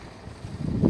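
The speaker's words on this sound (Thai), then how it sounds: "ลมนะเนี่ย ลมนะเนี่ยลมโอ้" Wind gusts across the microphone at a scenic nature spot in Wang Nam Khiao, a low buffeting rumble that swells louder toward the end of the short burst.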